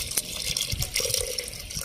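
Milk poured into a pot of water while making tea, giving a steady, close liquid splashing and trickling with light gurgles throughout.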